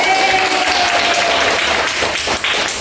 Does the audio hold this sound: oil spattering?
no